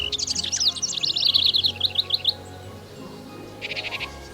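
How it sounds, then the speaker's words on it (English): Small birds sing in quick, high trills and chirping runs, bright and close, fading after a couple of seconds before a short burst of rapid chirps returns near the end over a quiet background. "And the smaller birds sang in delight."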